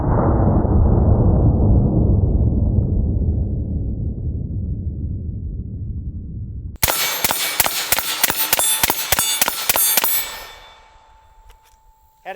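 A rifle fires 5.56 full metal jacket 55-grain rounds from a 20-round magazine in a rapid string of about a dozen sharp, loud cracks, with a steady hum of wind or noise underneath before the volley.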